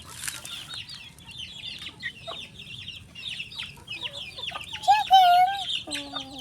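A chicken clucks repeatedly in short, close bursts, with a few longer, louder calls near the end over a quiet background.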